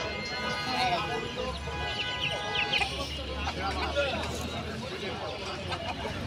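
Chickens cluck faintly amid a busy poultry market at Kaptan Bazaar, with a low background hum and people talking nearby.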